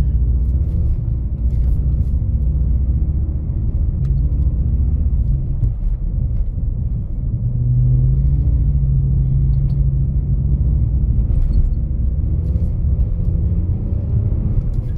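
A BMW E46 rear-wheel-drive car drifting at speed on a snowy road, heard from inside as a loud, steady low engine and road rumble with no clear breaks.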